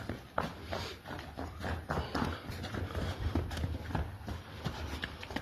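A young horse's hooves clop repeatedly at a walking pace, close by, with scuffs and faint outdoor noise around them.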